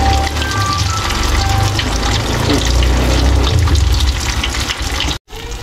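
Tofu slices frying in oil in a pan, a steady loud crackle and bubbling sizzle held close throughout, cutting off abruptly near the end.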